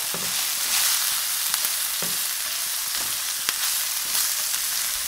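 About 200 grams of blanched zucchini or squash batons drop into a hot pan and crackle with a dense, steady frying hiss, broken by a few soft knocks and stirring taps, close and moderately loud with no one speaking.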